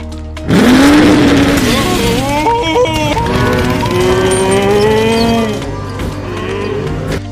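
Cows mooing in the tractor tipping scene of the animated film Cars (2006), a loud close low moo rising and wavering over several seconds, with other tonal animal calls layered over a steady rumble.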